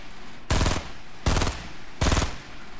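Fortnite gunfire in a firefight: three loud, close bursts of rapid shots about three-quarters of a second apart, each cut off sharply, over a low background hum.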